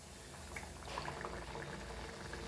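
Banana bun dough lowered into a small amount of hot oil over a medium flame, giving a steady, close bubbling sizzle with scattered pops that holds evenly throughout.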